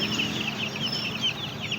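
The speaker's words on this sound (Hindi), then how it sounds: "और ये है जी देसी मुर्गी।" Desi (native) domestic hens cluck in soft, rapid bursts nearby, a quiet chattering over a low background hum.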